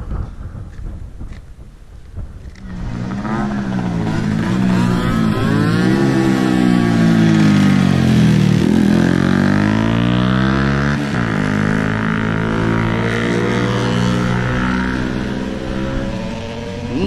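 Mopeds and motorcycles pass together in a seaside port town, engines building from quiet to a loud, sustained roar with shifting pitch as the group goes by, then easing off.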